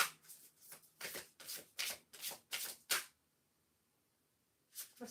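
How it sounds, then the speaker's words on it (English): Tarot cards being shuffled by hand: about eight quick riffling bursts in a steady rhythm, then a pause of near silence before another shuffle begins, close and crisp with no talking. "We're going to shuffle again."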